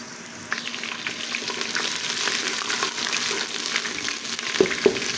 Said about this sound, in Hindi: अब मैं इसमें पिसा हुआ लहसुन अदरक डाल दूँगी